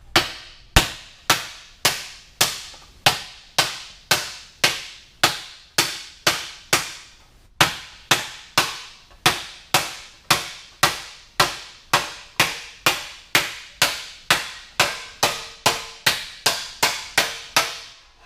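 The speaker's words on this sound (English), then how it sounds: "I'm using this plastic mallet that have sand in it" A heavy sand-filled plastic mallet beats sheet metal held on a dolly to correct beadroll distortion. Over thirty dull, evenly spaced knocks land in a steady rhythm, close and alone.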